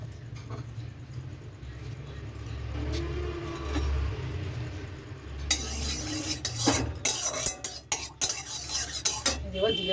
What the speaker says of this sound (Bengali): এবার জিরে ফোড়ন দিয়ে জিরে ফোড়ন, শুকনো লঙ্কা, তেজপাতা দিয়ে দিলাম।